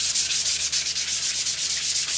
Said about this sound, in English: I'm going to go over it one more time with my sandpaper.